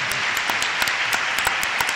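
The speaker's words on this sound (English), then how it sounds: "I want to give them a round of applause." An audience at a university panel discussion claps steadily, a dense wash of applause with a few sharper individual claps standing out close by.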